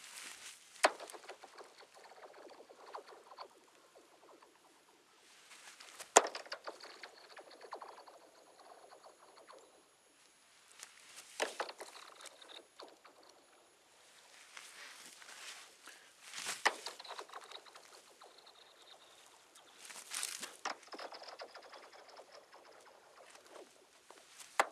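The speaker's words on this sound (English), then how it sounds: "these sticks are hitting those ridges is what's causing the noise" Sticks skimming across thin, ridged ice make recurring hissing, skittering rushes about every five seconds, each swelling and fading, with faint pattering in between and no voices.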